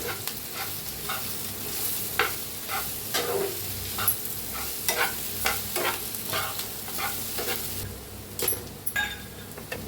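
Potato sabzi being stirred and fried in a pan, with a steady close sizzle broken by frequent scraping stirs and spoon clinks throughout, no voices.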